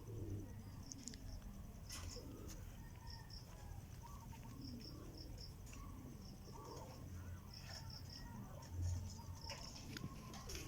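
Racing pigeons coo softly in the background amid a low outdoor rumble during a pigeon race in the Philippines, with faint chirps and scattered bird calls throughout.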